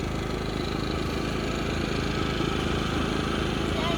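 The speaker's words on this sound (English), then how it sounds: "Inverter generator running. And here goes the trusted Chinese diesel heater." An inverter generator and a Chinese diesel heater run together at night beside a rooftop tent on a Toyota 4Runner, making a loud, steady mechanical hum and drone close by with no pauses.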